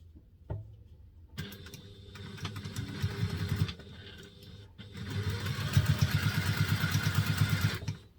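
A sewing machine stitches a wallet's lining and exterior together, running in two bursts of rapid mechanical whirring and chattering with a brief pause between, close and fairly loud with no talk.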